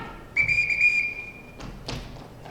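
A shrill whistle signal for calling children in a film scene, one long steady blast that trails off, followed by a couple of soft thuds.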